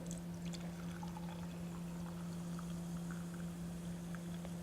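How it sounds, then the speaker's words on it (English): Cucumber drink pours into glasses as a soft, steady trickle, faint beneath a constant low electrical hum, with no talking. "now we're gonna pour some in the glasses"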